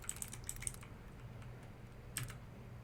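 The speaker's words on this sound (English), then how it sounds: "you can type in Project Veritas" Faint clicks of typing on a computer keyboard, a short burst of keystrokes at the start and another brief flurry near the end, with quiet pauses between them.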